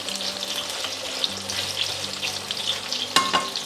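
Food fries crispy in a pan with a continuous, close hiss and crackle, a sharp utensil clink near the end, and a faint low hum beneath.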